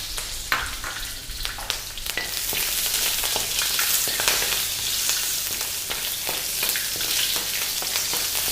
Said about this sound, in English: So we'll add the methi seeds, the curry leaves, and now the shallots.